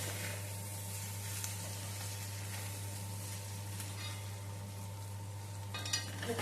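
Clam meat thoran, made Kerala style, cooks in a pan with a soft steady sizzle while a spoon stirs it now and then. An electrical hum sits underneath, and a few faint scrapes come near the end.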